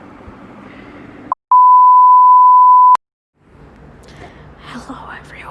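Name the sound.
beep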